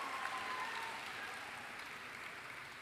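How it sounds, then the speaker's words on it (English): An audience applauds at a university evening event of personal stories. The clapping is steady and continuous but soft, as if heard from a distance, with no voices over it. "Can we give him one more round of applause?"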